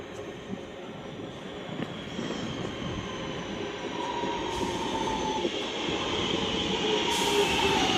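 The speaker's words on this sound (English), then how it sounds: "And as this Northern Class 323 boards now, I shall see us all when this Northern 323 departs Rainhill." A Northern Class 323 electric multiple unit, an ex-West Midlands Railway unit, hums and whines at Rainhill station on the Chat Moss/City Line, its motor tone steady and gradually rising at moderate distance, with no voices.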